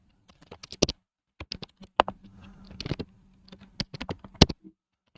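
Keys clacking on a computer keyboard during a computer science lecture on virtual memory, sounding as irregular bursts of close, crisp taps with short pauses between runs.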